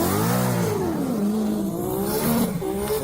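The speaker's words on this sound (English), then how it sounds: "We got a Hellcat full bolt on 85 Porta Blower versus an NA GT full bolt on cams" A supercharged Dodge Hellcat with full bolt-ons and an 85 pulley blower drag races a naturally aspirated, cammed Mustang GT, engines roaring and revving loudly and continuously with rising and falling pitch, close and dominant throughout.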